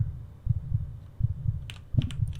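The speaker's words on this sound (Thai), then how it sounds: "หัวใจเรามันเต้นตึกตัก" Heartbeat sound effect in a Pokemon-themed haunted house video game: a steady, low thumping pulse of paired beats, moderately loud, running alone, with a few faint higher clicks near the end.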